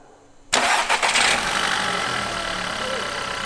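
A car engine is started with the ignition key, cranking briefly then catching and settling into a steady, somewhat rough idle close by, with a noisy start that a voice has pointed out.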